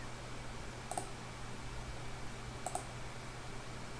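Two small, faint computer mouse clicks, each a quick double tick, spaced a couple of seconds apart over a steady low electronic hum.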